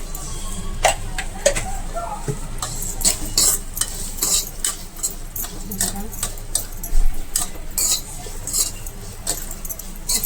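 Okra fries in oil with salt, sizzling under repeated metallic spoon scrapes and clinks against the pan, with a voice faintly present at times.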